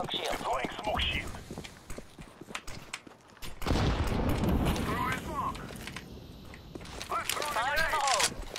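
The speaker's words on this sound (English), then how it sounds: "Throwing flashbang." A flashbang grenade bursts in a Counter-Strike match on the Basalt map, a loud broadband blast amid close gunfire and footsteps, with voices talking before and after.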